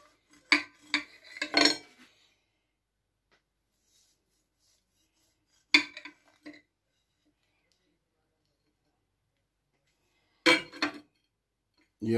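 A knife cuts an apple cake into pieces on a plate, giving three short separate bursts of scraping and clinking set apart by long silences.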